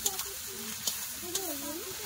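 Ginger, garlic and tomato sauté in a pan, giving a soft, low sizzle broken by a few light stirring scrapes over about two seconds, with a faint voice in the background.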